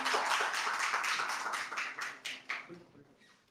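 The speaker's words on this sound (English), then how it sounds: "Let's give a round of applause for Irvin Sheriff" Audience at a hackathon finals applauds after a presentation, a quiet scattering of claps that thins into a few separate hand strikes and fades out.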